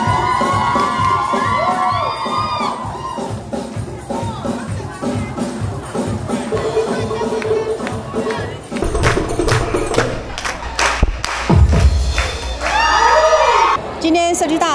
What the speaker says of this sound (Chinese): 台下观众的掌声加油声不断